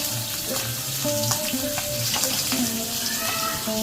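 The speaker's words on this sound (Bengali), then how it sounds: "একইভাবে বাকি মাছগুলো গরম তেলের মধ্যে দিয়ে দেব।" Fish frying in hot mustard oil in a pan, a steady broadband sizzle that runs throughout at close range, with a few clinks of a utensil and no talking.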